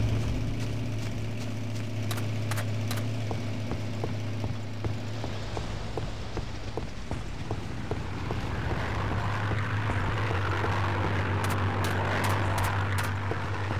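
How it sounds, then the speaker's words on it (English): A propeller airplane drones overhead in a World War II battle game set during the 1941 invasion of the Philippines, a steady engine hum running throughout under sharp intermittent gunfire cracks, with no talk. "Plane just flew over me and disappeared."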